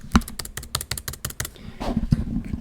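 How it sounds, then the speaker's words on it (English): Rapid, evenly spaced clicks of a MacBook spacebar being pressed close up, about a dozen in a row, then fading into softer, irregular taps and low rustling. "And I'm clicking the spacebar."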